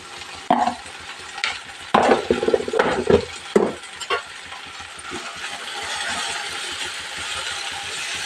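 Okra curry with chili powder being stirred in a pan: several loud scrapes and clatters in the first half, then a steady hiss of frying that carries on alone.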